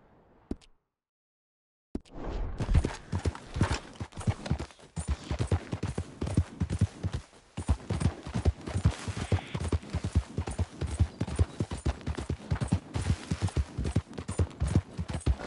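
Horse hooves in a PS4 video game clip-clop in a quick, steady gallop rhythm after a short silence, loud and continuous until the end.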